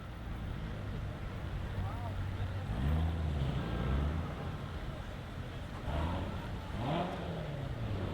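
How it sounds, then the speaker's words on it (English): Classic Corvette Stingray, 1960s powder blue, driving past in a Wichita Veterans Day parade, with a steady engine rumble and a couple of gentle revs under constant outdoor crowd noise; people talk nearby. "Oh, that's a Corvette Stingray."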